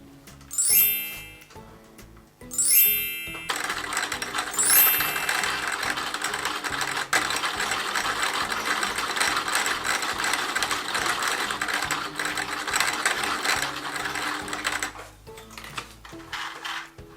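A sewing machine stitches quilt patch pieces together for a double four patch block, its rapid mechanical whirr running steadily for most of the stretch after a few short start-and-stop bursts, close and fairly loud with no talking.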